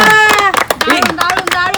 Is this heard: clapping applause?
yes